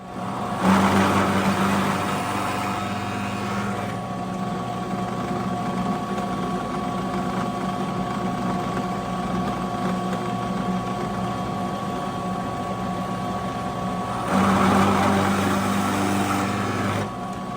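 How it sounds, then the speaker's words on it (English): A drill press motor drones throughout at an even pitch, swelling louder and grittier at the start and again near the end as the bit cuts peg holes into wood. "So after we finish drilling the holes for the pegs"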